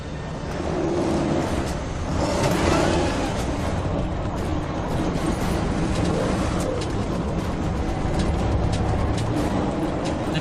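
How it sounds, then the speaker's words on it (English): Heavy truck engine laboring hard for traction on an icy highway, a loud, continuous, dense roar with grinding texture and no break, close and dominant throughout. "The truck's fighting for traction right now."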